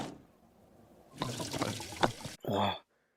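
Plain water is poured for a drink, a bright splashing stream running for about a second, then a short second pour with a gurgling rise before it stops.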